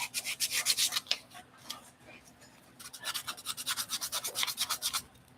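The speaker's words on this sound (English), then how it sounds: "once I start sanding it, you can really see all those divots" Rhythmic rasping strokes of heavy-grit sandpaper on wood, close up, in two bursts separated by a brief quieter pause.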